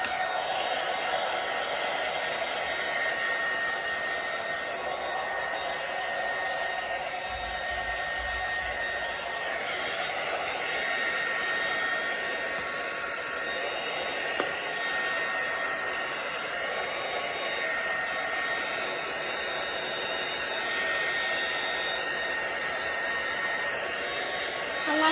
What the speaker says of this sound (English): I like this heat gun, but it's just the cord's too short.